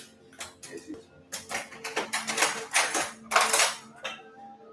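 Metal cutlery clatters and jingles as a hand rummages through a drawer for a knife, a busy run of close, bright clinks and scrapes with brief pauses.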